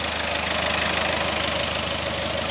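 A 2015-era Skoda Octavia vRS 2.0 TDI diesel engine idling steadily nearby, a smooth low rumble with an even, fast knocking rhythm and no voices.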